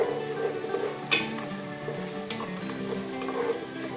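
Ginger-garlic paste frying in oil in a pot for Bengali pulao, a soft steady sizzle with light stirring scrapes and a couple of sharp utensil clicks against the pan.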